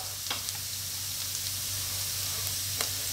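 Onions frying in hot oil in the same pan left from cooking pork liver for Filipino bistek, a steady, loud, broadband sizzle that holds constant throughout with a few faint pops and no talking.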